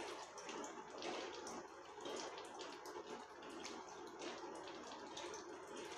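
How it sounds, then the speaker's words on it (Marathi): Chopped cabbage rinsed under running water in a colander, a continuous faint splashing wash with small fluctuations, no voices. "आणि पाणी टाकून स्वच्छ धुवून घेणार आहोत."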